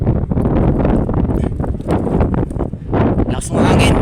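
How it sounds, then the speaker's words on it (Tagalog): Strong wind at the sea buffets the microphone in loud, gusting bursts and rustles, with a person speaking over it nearby. "Lakas ng hangin."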